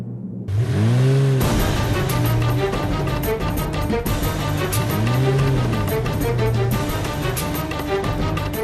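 A car engine drives with a continuous loud drone and a rising whir, mixed under dramatic music that plays throughout, with no talking.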